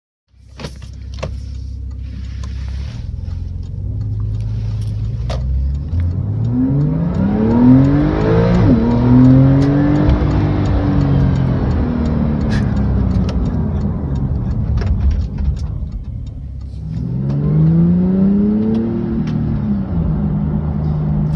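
A Porsche sports car engine rises through the gears under hard acceleration, steady loud drone with climbing revs, a shift, then another pull, heard from inside the cabin without talk.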